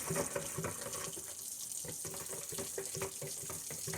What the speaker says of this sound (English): I just let the water run over it.